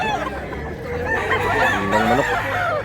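A rooster crows among clucking chickens at a gamefowl buyers' gathering, the crow's stacked harmonic calls rising and falling over a steady murmur of birds, loud and close throughout.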